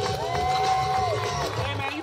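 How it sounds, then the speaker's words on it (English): A crowd applauds and cheers for Alexander in a steady, dense roar of clapping and shouts, held at an even loudness throughout, with a thin whistle-like tone sliding across the middle. "Ladies and gentlemen, big round of applause for Alexander!"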